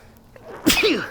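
One sudden, loud sneeze bursts out close by after a brief quiet inhale.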